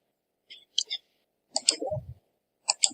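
A computer mouse clicks softly a few times in scattered pairs while working in SolidWorks, close and quiet, with a brief low murmur in between.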